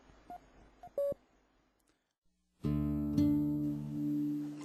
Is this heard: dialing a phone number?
yes